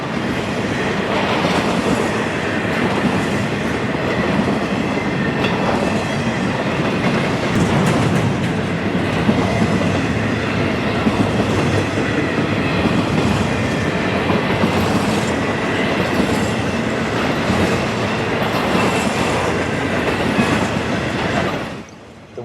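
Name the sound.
FEC train 141 passing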